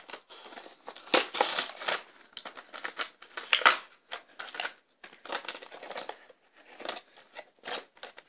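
Scissors snipping and crinkling through plastic toy packaging for a bear figure set, a series of irregular close crunchy cuts and rustles with short pauses between bursts.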